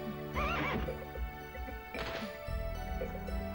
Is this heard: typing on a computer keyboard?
no